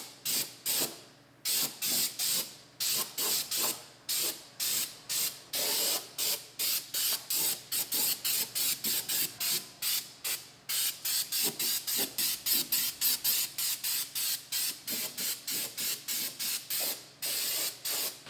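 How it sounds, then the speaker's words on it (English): Repeated short bursts of aerosol undercoating rustproofing spray hiss into a car wheel well, dozens of rhythmic sprays with brief gaps, close and loud, no voices. "we're just gonna spray on some undercoating"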